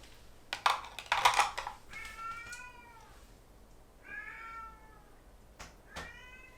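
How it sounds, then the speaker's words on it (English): A cat yowls in drawn-out, wavering cries, several of them spaced apart, with some scratching or thumping noises near the start. "if you hear yowling, he's fine."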